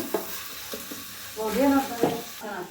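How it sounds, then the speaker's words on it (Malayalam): Kadai chicken frying in a kadai while it is stirred, with a loud, close sizzle, scraping stirs and a brief tonal sound in the middle. "കടായി ചിക്കൻ ഉണ്ടാക്കുകയാണേ."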